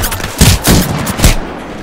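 Rapid bursts of video game gunfire crackle loud and close in three heavy clusters, with a faint voice briefly underneath before the barrage thins out.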